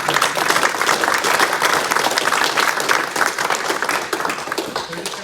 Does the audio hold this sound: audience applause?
yes